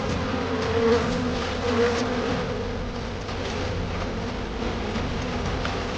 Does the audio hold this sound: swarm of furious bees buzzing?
yes